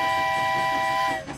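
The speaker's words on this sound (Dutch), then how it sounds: "Er komt een trein voorbij." A train passes at a railway crossing in a children's animated scene, with a loud sustained whistle-like tone and rolling rumble that drop away near the end, and no one talks over it.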